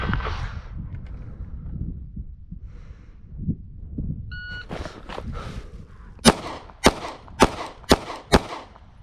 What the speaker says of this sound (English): Okay, we have 10 more rounds to fire here over 2 strings of fire.